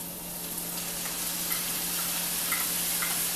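Onion, garlic and chopped tomatoes frying in a pan, a steady broad sizzle with faint scattered ticks and pops, close and continuous without talk.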